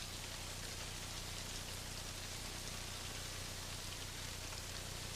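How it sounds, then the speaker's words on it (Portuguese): Heavy tropical rain pours steadily over an archaeological excavation site in Africa, a dense, even hiss of downpour with no voices. "A forte chuva tropical causa uma paralisação na escavação."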